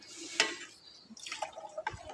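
Water is poured into a cooking pot for chicken pulao, giving a short splash and a few light drips and clinks of the pot, close and fairly quiet.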